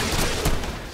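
The Kulstar launcher in Warframe fires a short burst of loud, close booms and blasts, dense and rumbling across about a second of combat noise.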